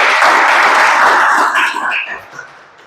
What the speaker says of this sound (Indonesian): tepuk tangan dulu buat Rahmat